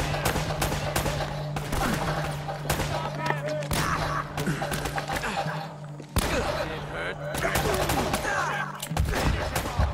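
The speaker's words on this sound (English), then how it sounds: "Stop shooting me, peoples!" Gunfire aimed at the player in an Uncharted game, rapid bursts of shots and impacts crackling almost nonstop, with a voice talking over the barrage.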